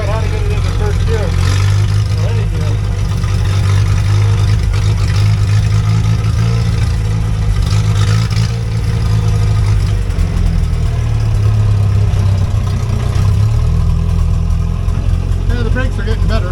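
A 1963 Hillman Super Minx car engine runs steadily at idle with a loud, continuous low rumble and slight rises in revs, while a person talks over it.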